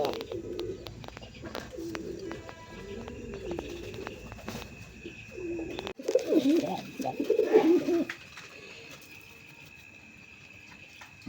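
Pigeons coo in a market pen where birds are being sold, soft repeated rounded calls mixed with rustling and a background hum, growing denser and louder in the second half.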